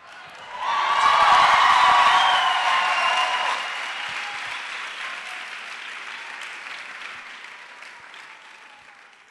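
A church congregation breaks into loud applause with cheers and whoops, swelling quickly, then slowly fading over several seconds.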